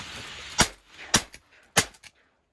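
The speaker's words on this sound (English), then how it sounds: "Holy crap, Pete. Good shot." Three sharp shotgun blasts ring out while duck hunting on public land, spaced roughly half a second apart, loud and close, each with a short decaying tail and no talk over them.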